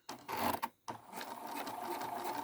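Pfaff Creative 2170 embroidery machine running after being cleaned and oiled, giving a fairly quiet whirring mechanical clatter that stops briefly, then restarts and runs steadily.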